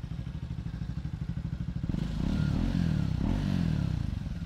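A 2024 Triumph Speed 400 single-cylinder motorcycle engine idles with a rapid, even thumping beat, then revs up into a fuller, rougher drone before settling back; moderately close, with no talking.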